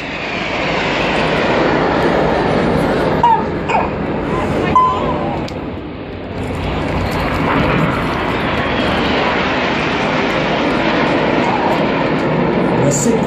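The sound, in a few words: Red Arrows jet aircraft flying past at an air show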